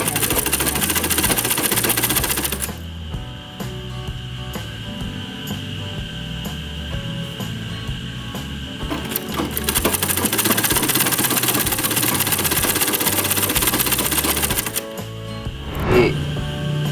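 Sewing machine running steadily while stitching a bolster pillow case, a loud close mechanical whir with a constant rapid stitching rhythm and a brief slowdown in the middle, no talking.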